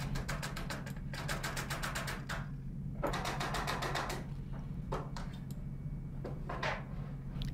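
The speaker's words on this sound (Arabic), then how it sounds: "كم مسمار بقى بلدي شيش كده وندقدقهم ونثبت الظهر." Small nails are tapped into the back of a wooden picture frame, with rapid bursts of light hammer taps separated by short pauses, close by.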